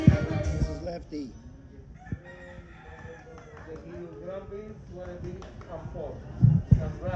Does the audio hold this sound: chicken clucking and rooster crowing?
yes